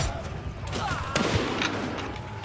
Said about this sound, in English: Well, I will shoot some of them at least.